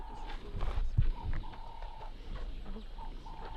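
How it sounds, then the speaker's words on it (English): A ringneck dove, also called a Cape turtle dove, calls in the Cape Town bush with a series of soft, repeated coos, joined by a few nearby thumps and rustles. "So the sound that you are hearing now is a dove. A ringneck dove or a Cape turtle dove."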